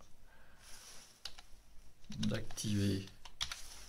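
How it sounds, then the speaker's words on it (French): Soft, irregular key presses on a computer keyboard click under a man's speech, with a few sharper taps standing out near and clear. "il faut bien regarder ce qu'on tape"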